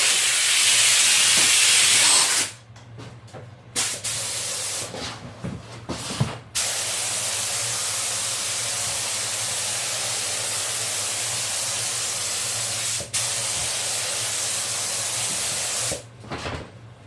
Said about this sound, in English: I will hit this with an activator